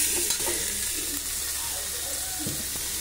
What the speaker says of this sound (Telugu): ఇదైతే మంచిగా ఫ్రై అవుతుంది.